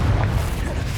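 A Confringo fire spell bursts in Hogwarts Legacy, a single deep booming explosion with a heavy low rumble that lingers and fades over about a second.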